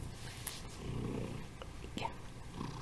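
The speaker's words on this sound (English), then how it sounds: "I bet you can hear him purring." A cat settled on its owner's lap purrs softly and steadily, a low faint rumble with a few small rustles around it.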